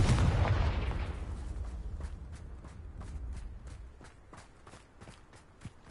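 A Confringo blasting spell goes off in Hogwarts Legacy with a loud, booming burst that decays over about two seconds, followed by a run of light, rhythmic footfall-like taps.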